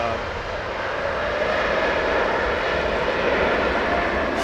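Aircraft engine roar from a plane passing at Heathrow Airport, a steady loud broadband rumble holding for the whole stretch without easing, with a hint of voices underneath.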